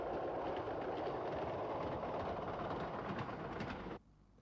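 A small ADE-03 narrow gauge railcar of 950mm gauge, from a fleet brought in 1954, rumbles steadily past with a soft wheel clatter before the sound cuts off abruptly near the end.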